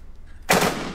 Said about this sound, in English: Some woman shooting an AK.